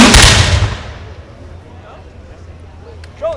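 A volley of flintlock muskets fires at once during a reenactment of the American Revolution at an outdoor independence festival. The blast is loud and sharp and rolls away into a long fading rumble, and a brief clatter comes near the end.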